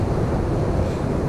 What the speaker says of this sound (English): I think the wind is increasing